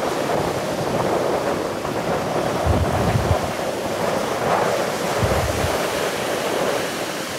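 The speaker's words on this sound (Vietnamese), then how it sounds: "Hiện tại thì sóng ở biển đang rất mạnh nha các bạn." Strong sea waves crash around a fishing boat out at sea, a continuous loud roar of surf with heavy rumbling surges and wind buffeting the microphone, with no talk.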